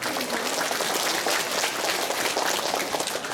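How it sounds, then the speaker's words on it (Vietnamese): Sustained applause from a large crowd at a school year opening ceremony, dense and steady throughout, loud and filling the space. "Xin một tràng pháo tay thật lớn để chúc mừng thành tích của tập thể nhà trường"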